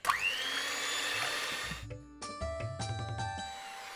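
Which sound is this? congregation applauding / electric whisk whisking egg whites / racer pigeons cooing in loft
electric whisk whisking egg whites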